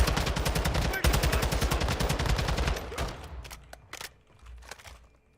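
Rapid bursts of automatic gunfire from a video game match against bots, a dense loud volley for about three seconds, then scattered single shots and distant bursts fading out.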